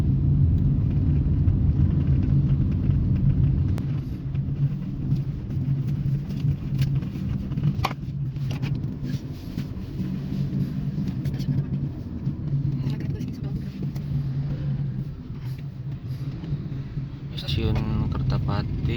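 A Kia Rio drives along a road on an inter-island trip from Bandung to Medan, with a steady low engine and tyre rumble throughout and people talking inside the car over it.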